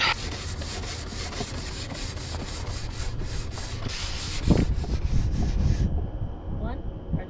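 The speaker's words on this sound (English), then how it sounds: "Now that it's scraped, time to brush it." A brush sweeps back and forth across a freshly scraped snowboard base, making close, rhythmic scratchy strokes in a steady series that stop abruptly near the end.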